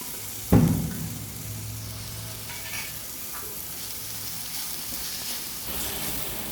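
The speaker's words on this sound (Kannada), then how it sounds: "ಈಗ ಟೊಮೆಟೊ ಒಂದು ಎರಡು ನಿಮಿಷ ಚೆನ್ನಾಗಿ ಫ್ರೈ ಆಗಿದೆ" Tomatoes fry in a pan with turmeric and cumin, giving a steady soft sizzle after a sharp clatter at the start, with faint stirring scrapes over the hiss.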